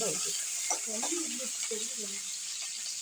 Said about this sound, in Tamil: வெங்காயத்தை வதக்கிட்டு எண்ணெய் ஊற்றிட்டேன்